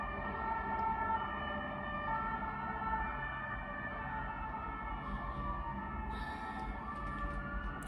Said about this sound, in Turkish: itfaiye siren sesiyle geçiyor şu anda